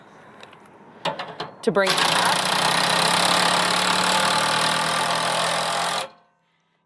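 Powered socket tool cranking a stabilizer jack on a 2022 Aliner camper, a few sharp clicks and then a loud, steady whirring drive that runs for about four seconds and cuts off abruptly, with a brief voice at the start.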